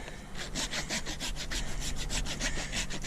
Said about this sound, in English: And we'll get this rasp